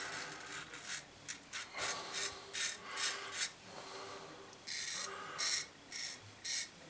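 A razor shaves skin in a series of short, light, slightly ringing scrapes, coming in an uneven rhythm of quick strokes at a fairly faint level.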